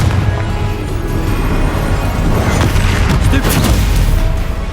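A Confringo blasting spell goes off in Hogwarts Legacy, a loud burst of booming explosions and crackling impacts layered over dense game noise.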